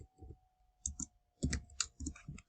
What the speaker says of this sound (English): I'm just going to type in Pinterest